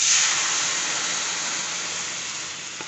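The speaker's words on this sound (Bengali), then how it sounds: "আর তারপরে আমি ডালটা ঢেলে দিচ্ছি" Dal poured into a hot pan of sour green mango and turmeric for tok dal sets off a loud, bright sizzling hiss that bursts at once and then fades slowly over a few seconds.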